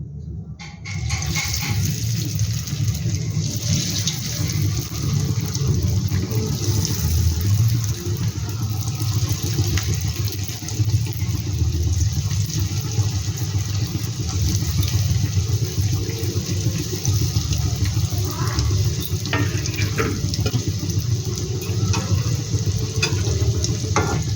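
Roll singaras frying in hot oil, a loud, continuous bubbling sizzle that runs steadily without pause for the full length.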